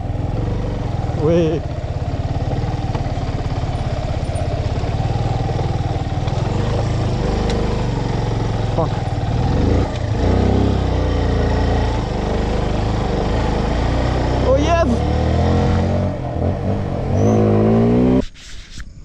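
Motorbikes grinding slowly along a slippery hill road near Markhu, Kulekhani, with a continuous loud engine drone and revving close by, plus wind noise, and a brief spoken word near the start.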